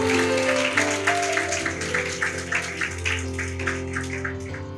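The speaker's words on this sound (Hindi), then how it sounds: "तो जोर से ताली बजा सकते हैं यीशु के लिए।" A church congregation claps loudly together in a worship service for deaf people, with dense, steady, rhythmic applause over sustained instrumental tones.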